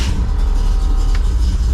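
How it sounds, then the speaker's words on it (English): A Chevrolet Camaro engine idles on a cold start, a loud, close, steady low rumble with no break or rise across the short stretch. "So I am going to cold start the Camaro again."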